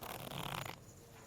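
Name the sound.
shuffling a deck of playing cards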